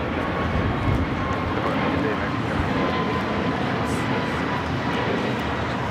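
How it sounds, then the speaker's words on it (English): An American Airlines Airbus A321neo takes off from Los Angeles LAX bound for Washington Reagan National, a steady, loud jet roar, with voices talking over it. "1711 taking off to Washington Reagan National on the A321neo"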